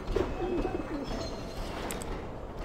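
A pigeon coos softly in the game Alice Madness Returns, a short low warble near the start over a steady ambient hum.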